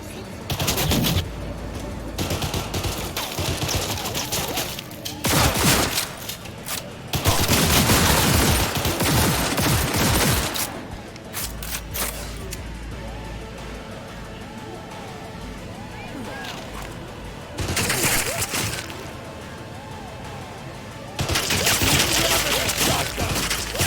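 Gunfire in the video game Cyberpunk 2077 on Xbox Series X, with several loud bursts of rapid shots spread across the stretch and quieter gaps of game ambience between them.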